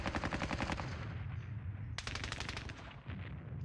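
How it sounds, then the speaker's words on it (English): Light machine gun firing in the WWII strategy game Squad Battles: Red Victory, rapid bursts of sharp automatic shots with a brief pause between bursts, loud and close. "Can only fire with that light machine gun."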